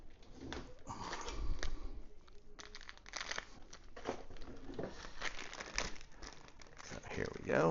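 Plastic packaging around a self-adhesive metal measuring tape being torn and opened, with close crinkling and crackling throughout while someone talks over it.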